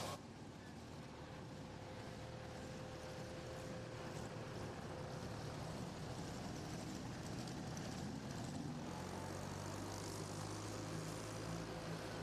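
A pulling tractor roars at full power down the track at the 2023 Lions Super Pull of the South in Chapel Hill, Tennessee, a loud, steady engine drone that holds for the whole stretch and deepens near the end.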